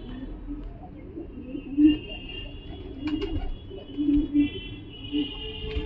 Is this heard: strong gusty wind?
no